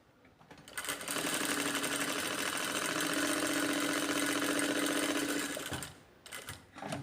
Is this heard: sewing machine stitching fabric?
yes